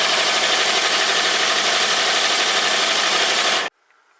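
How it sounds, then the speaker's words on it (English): Stitch drilling steel end plates for a locomotive smoke box, a continuous loud grinding, rubbing drill sound running steadily for several seconds before cutting off abruptly into near silence. "the first stage of stitch drilling to remove the middle bits from the two end plates"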